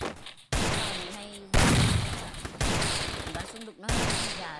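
Bursts of gunfire in the mobile shooting game Free Fire, four long rapid fusillades separated by short gaps, loud and close.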